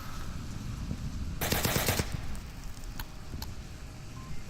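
Pre-firing in the VR shooter Onward during a championship match: a short, dense automatic burst of about half a second, fairly close, followed by a few isolated single shots over low background rumble.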